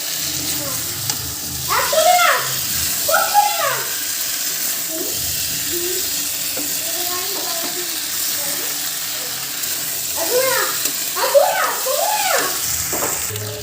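Home-style chicken curry sizzles and crackles steadily as it fries in a pan, with occasional stirring scrapes and a voice speaking intermittently over the cooking.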